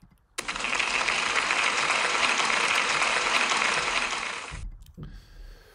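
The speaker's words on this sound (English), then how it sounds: "Can we give Tilly a big round of applause, please?" School assembly applause from a room of children, dense clapping that starts abruptly, holds steady for about four seconds, then stops suddenly, leaving a quiet room.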